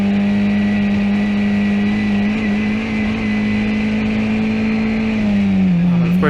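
A Formula 1600 race car engine drones steadily on track from the cockpit, holding a constant loud tone that dips briefly and drops slightly near the end, with no talk over it.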